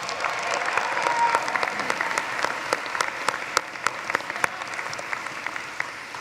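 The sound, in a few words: applause for the musicians at commencement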